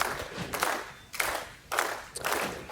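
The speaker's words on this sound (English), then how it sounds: "here's the crowd rooting on Hiltunen for her next strike" Crowd cheering and clapping at a women's professional bowling tour final, rising in several loud bursts of applause and shouts, each lasting about half a second to a second, with quieter crowd murmur between them.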